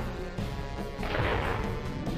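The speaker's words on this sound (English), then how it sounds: "Fireworks, real festive." Fireworks burst in the video game Mario & Luigi Bowser's Inside Story on 3DS, a dense run of booming, crackling blasts that swells midway and stays loud throughout with no talk.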